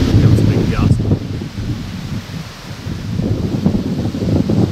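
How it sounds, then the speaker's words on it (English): Strong wind gusts roar across a microphone outdoors on Vancouver Island during an elk hunt, a loud continuous rumbling buffet that swells and eases, with rustling underneath. "That's too much wind."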